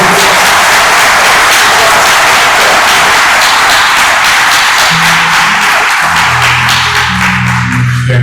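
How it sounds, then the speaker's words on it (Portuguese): Church congregation applauding during a family worship service, dense sustained clapping filling the space, with sung or instrumental tones entering near the end. "Vamos aplaudir o nome de Jesus."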